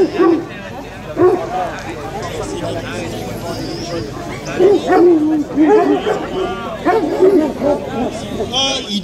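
Hunting dogs barking in a group, repeated loud barks and yips in irregular bursts close by, mixed with crowd chatter and people talking in the background.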